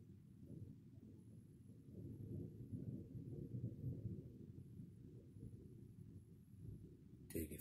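Thunder rolls as a long, low, distant rumble that swells and fades over several seconds, faint and continuous, with a brief sharper burst at the very end.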